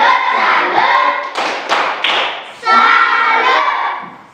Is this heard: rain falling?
no